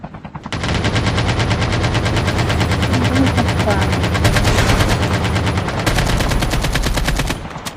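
Sustained automatic gunfire from a video game rattles loudly and continuously for several seconds, a dense rapid burst that briefly eases and then picks up again.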